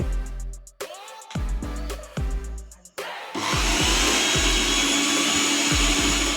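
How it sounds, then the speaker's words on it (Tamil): A few resonant tonal thumps, then an electric mixer grinder, repaired after a switch sparking fault, switches on and roars steadily and loudly until the end. "எந்த ஒரு பிரச்சனையும் இல்லாமல் மிக்ஸி சூப்பராக ரன் ஆகுது"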